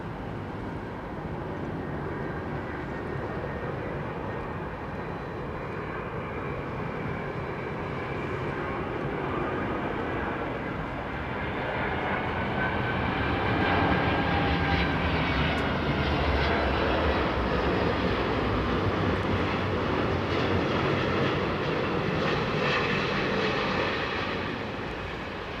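Aircraft engines at London Heathrow Airport throttle up into a loud, sustained roar that builds slowly and holds steady, broad and rumbling, with no talk over it.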